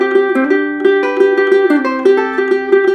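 A Mahalo tenor ukulele with a cutaway body and B-band pickup is plucked in a steady run of bright, close notes, ringing alone without any talking.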